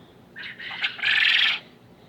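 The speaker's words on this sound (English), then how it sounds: "They just now started crowing." A single rooster crows once at moderate distance, a short rising note followed by a longer sustained call, in a quiet setting without talk.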